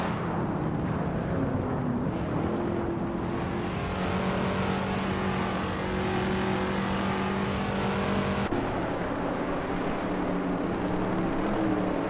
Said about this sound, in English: Eliasix 98 is driving a 1977 Aston Martin Ford 8 Vantage, a vintage street car known for its power and style.